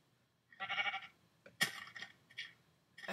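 Sheep in the Minecraft video game bleating, several short nasal bleats in quick succession, close and clear with brief gaps between calls.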